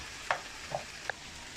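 Chicken, rice and mushrooms cook in a frying pan with a soft steady sizzle, while a few light stirring clinks from a utensil sound close by.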